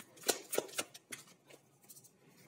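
Tarot cards are shuffled by hand, quick, soft riffling flicks and taps close up, a handful of bursts fading into lighter rustling.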